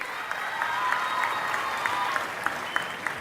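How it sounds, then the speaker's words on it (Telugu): An audience claps at a parent-teacher meeting with the Chief Minister present, a moderate steady patter of applause with a few sharper individual claps standing out near the end. "గట్టిగా చప్పట్లు కొట్టి అభినందించండి"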